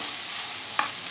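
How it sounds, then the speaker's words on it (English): Washed spring onion greens go into a frying beef samosa filling: an even, close sizzle with a single sharp spoon clink near the end. "I'm going to be adding in my green part of thoroughly washed spring onions."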